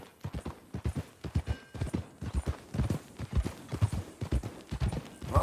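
Horse hooves in the video game Red Dead Redemption 2 clop in a clear, steady rhythm, each hoofbeat distinct and close, trotting along with no talk over them.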